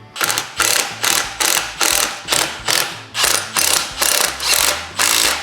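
A ratchet tightens exhaust pipe bolts on a 4-speed Z/28 Camaro, loud close rhythmic bursts of rapid clicking, about ten evenly spaced strokes in a row.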